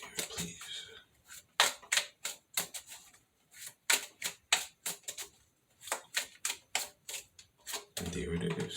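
Tarot cards being shuffled and drawn, a run of sharp, close, rapid riffling bursts in an uneven rhythm, with a rougher handling rustle at the end.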